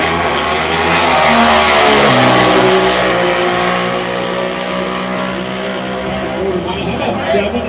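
Pro stock drag racers launch hard off the starting line, their engines roaring loud and close with climbing revs through quick gear shifts before fading slightly, while a commentator talks over the noise.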